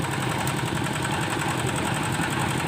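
A ridden vehicle's engine drones in a steady, continuous hum with a faint rattly vibration, close and unbroken throughout with no talk.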